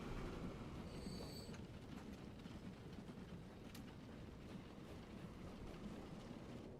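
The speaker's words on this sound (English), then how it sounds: "because the other train's just arriving" A train pulling into a station in the video game Transport Fever 2, a continuous low rumble of rolling wagons with a faint high squeal early on, steady and unbroken, with no talk.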